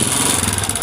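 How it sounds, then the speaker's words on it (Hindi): Honda CG125 motorcycle engine with a noisy fault, running just after a kick start, giving a rough, buzzy, close mechanical drone with rapid fluttering pulses and a clattering edge. "तो आपको बाइक स्टार्ट करके दिखाते हैं।"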